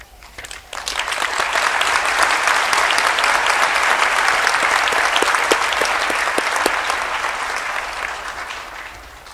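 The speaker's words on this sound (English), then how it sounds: "I request the audience to join me in applauding our graduates for their significant" An audience applauds graduates at a Faculty of Economic and Management Sciences graduation ceremony, loud sustained clapping from a large crowd that swells in and holds for several seconds.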